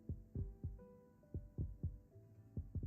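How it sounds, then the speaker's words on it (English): Soft, low heartbeat thumps repeat in a steady double-beat rhythm across the clip, close and muffled, with a faint hum beneath and no voices. "We just listen to the quiet rhythm of each other's heartbeats."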